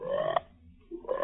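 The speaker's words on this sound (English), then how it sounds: "The frogs are convening." Frogs croak in two short, raspy bursts separated by a pause, close and fairly loud in an outdoor natural setting.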